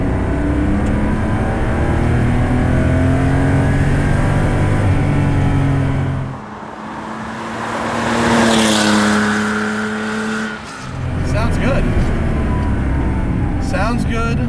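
A Porsche 911 Safari pulls hard through second gear, its engine note climbing loud and close before a brief lift-off and another rising pull, with a voice speaking over part of it.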